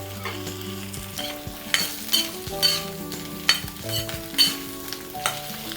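Okra sizzles in hot coconut oil in a pan during sambar preparation, a steady close frying hiss broken by several stirring scrapes and clinks.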